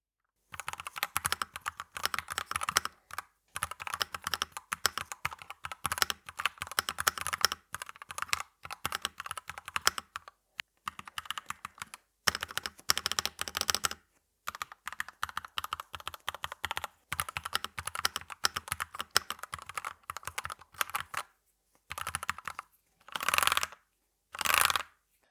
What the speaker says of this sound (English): This is a typing test of the D66 wireless keyboard with the Gateron red